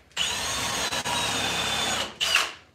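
Power drill countersinking into thin pieces of wood for a bench built from old chairs, a close, loud whirring burst that briefly dips twice, stops, then gives one short final spin.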